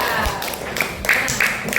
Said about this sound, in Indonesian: Tepuk tangan dulu untuk Wahda.